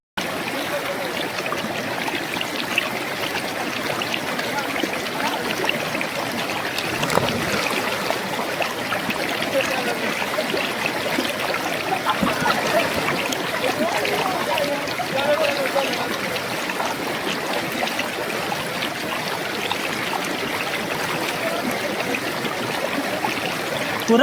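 Talameting waterfall in Koraput pours continuously as a broad, steady rush of falling and flowing water, close and fairly loud, with possible faint voices beneath it.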